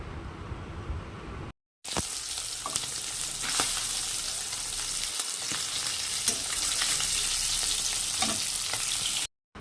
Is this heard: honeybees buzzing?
no